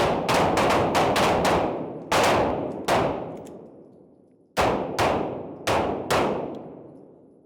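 Handgun shots ring out at a police academy firing range, a rapid cluster of sharp reports followed by paced single and double shots, each loud crack trailing off in echo.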